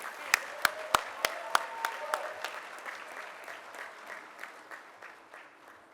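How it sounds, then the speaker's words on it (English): Audience applause at the St. Bernard Sports Hall of Fame 2023 induction ceremony for a Crystal Award winner: a few loud, sharp individual claps open, then spread into a fuller round of clapping that gradually fades. "So please give her a round of applause, Miss Lana Ibieta Smith."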